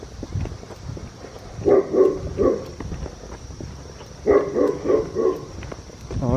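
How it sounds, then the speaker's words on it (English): A dog barks behind a fence in a residential neighbourhood, heard in two bursts of three or four barks each, at moderate distance, with footsteps and outdoor ambience in between. "some dog that sounds like he wants my blood on the other side of that fence"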